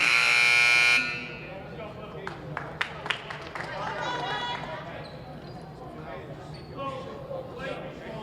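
Loud electronic buzzer blares for about a second at a girls' high school basketball game, followed by gym crowd noise, sneaker squeaks and scattered whistles with a voice talking over them.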